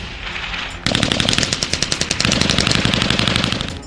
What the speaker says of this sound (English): To orient the cadets with different heavy weapons, they are taken to an exercise for a couple of days, namely field fire.